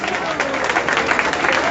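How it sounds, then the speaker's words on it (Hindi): An audience claps for a performer in a staged play, a brief, dense wash of applause that holds steady throughout. "उनके लिए तालियां बजाइए"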